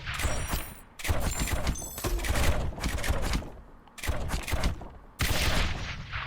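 Mortar tower firing in the Rogue Tower video game: repeated bursts of booming, crackling explosions in clustered volleys separated by short gaps, loud and close.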